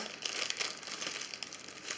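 Adhesive tape being slowly and carefully peeled away from a mail package, a close, continuous crinkly, crackling rasp of plastic and paper with no pauses.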